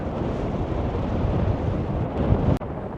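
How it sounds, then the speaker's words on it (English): Strong wind blows across sand dunes, buffeting the microphone with a steady, loud low rumble and gusty roar that drops out briefly near the end. "It is crazily windy."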